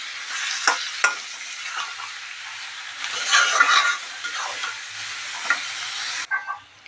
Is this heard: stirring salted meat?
yes